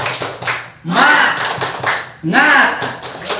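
A group performs a rhythmic clapping chant, the spirit clap, at a teachers' gathering. Sharp claps fall in patterned bursts with short pauses, and voices join in close and loud.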